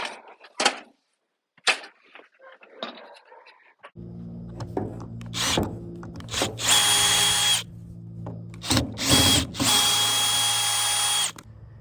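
A power drill drives pan head tech screws into a greenhouse frame, with several whining bursts of varying length, close and loud, after a few knocks and handling sounds.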